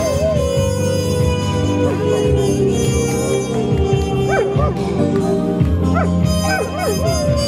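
A dog howls and whimpers along with a street musician's playing on a busy Yalta promenade, its rising wavering cries repeating over steady loud music and crowd noise.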